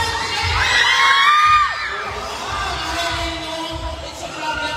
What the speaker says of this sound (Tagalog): Isang sigawan na yan dyan!